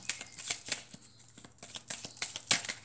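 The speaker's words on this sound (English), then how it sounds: "Okay, we don't want to shuffle anymore right there." Tarot cards are shuffled up close in quick, irregular riffles and soft flicks, crisp snaps popping out every so often.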